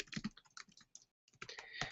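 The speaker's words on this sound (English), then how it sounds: "I'm typing something." Rapid, uneven clatter of keys on a computer keyboard, close up, with a brief pause before the tapping resumes.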